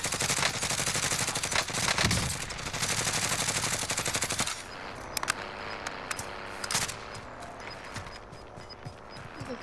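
Call of Duty Warzone battle-royale gunfire: a sustained, loud automatic burst for several seconds, then sparser scattered shots and clatter as the shooting tapers off, with faint game voices in the background.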